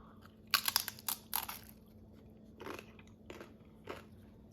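Crunchy bites into a fried crab rangoon, a few sharp close crunches followed by quieter chewing bursts in a quiet room, no talking.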